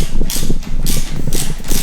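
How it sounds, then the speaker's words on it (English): Ratchet clicking as a hose band clamp on a 3/4 hose is tightened on a Mitsubishi Evo 9 air intake, a few loud, close bursts of rapid clicks over a low background rumble. "Now I'm going to place a band to tighten it down."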